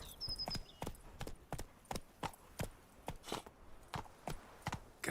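Hooves of Roach, the horse in The Witcher 3, clip-clopping in a steady walking rhythm, around a dozen distinct close hoof strikes with a brief high tone early on.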